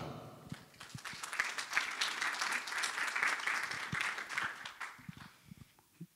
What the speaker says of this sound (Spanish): Recibámoslos con un caluroso aplauso.